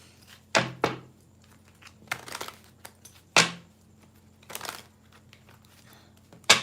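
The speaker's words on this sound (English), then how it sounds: "Shuffle both decks for you." Two decks of tarot cards are shuffled in separate bursts, with sharp riffles and soft thumps as the cards are cut and squared, each burst followed by a quiet gap.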